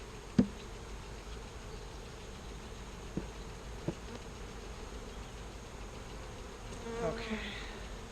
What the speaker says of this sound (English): There goes that ball of bees, just fell.